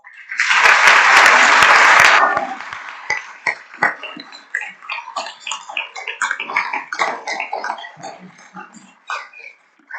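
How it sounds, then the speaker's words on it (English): A burst of dense audience applause at a luncheon as a speaker is introduced, loud for about two seconds, then thinning into scattered individual claps that fade out. "Please help me in introducing Kathy with a round of applause."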